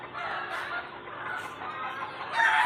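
Pet chickens on a farm cluck steadily throughout at close range, with a rooster crowing loudly near the end; no talk.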